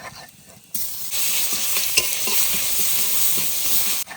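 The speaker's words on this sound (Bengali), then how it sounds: "সর্ষের তেল, তেলের উপর দিয়ে দেবো একটা শুকনো লঙ্কা আর কালো জিরে, অল্প রসুন ছেঁচে নিয়েছিলাম, দিয়ে দেবো তেলের উপরে" A dried chili, black cumin and crushed garlic drop into hot mustard oil, bursting into a loud, bright sizzle that holds steady for several seconds with faint crackles and a spoon tap.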